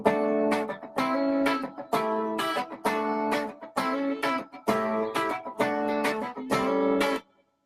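Dry electric guitar played through plain compression with every reverb control off, repeated chugging chords in short bursts with hard stops between them, loud and close with no ambience or tail.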